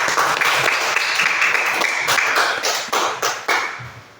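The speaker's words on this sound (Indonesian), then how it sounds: "Berarti tepuk tangan dulu buat Amor" A classroom of pupils claps hands for a classmate named Amor, a dense burst of applause that carries steadily, then breaks into a few separate claps before fading out near the end.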